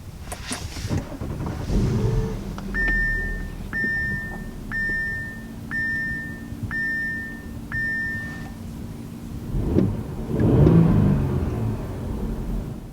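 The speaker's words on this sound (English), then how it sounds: "to start up the SQ5, put your foot on the brake and press the red trimmed push button start" An Audi SQ5 started with its push button: a series of evenly spaced chimes from the cabin, then the engine cranks and catches with a rising, rumbling flare near the end.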